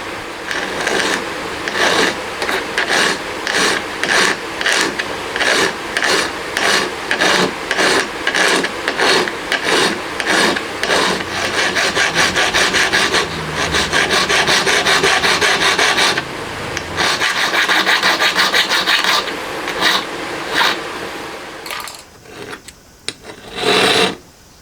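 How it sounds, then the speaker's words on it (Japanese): A hand file rasping metal to shape the tip slot of a valve seat cutter for a 125cc twin-cam 16-valve four-cylinder engine, in steady rhythmic back-and-forth strokes, close and loud, with a few scrapes and pauses near the end. "チップが収まる部分をヤスリで落としていきます。"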